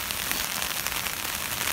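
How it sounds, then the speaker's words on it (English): Hail falls during a rainstorm at an overnight hammock camp in the woods, a dense, continuous patter of hard little impacts, steady and fairly loud with no voices. "And as you can see, it's hailing."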